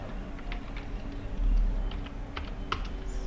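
Rapid keystrokes on a computer keyboard, a close, uneven patter of light clicks with a few sharper taps over a low background hum.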